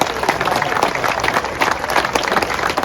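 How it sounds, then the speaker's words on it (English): Audience clapping steadily at a car festival awards ceremony for unexceptional everyday cars, a dense, sustained round of applause from a large crowd with no voices over it. "Give yourselves a round of applause."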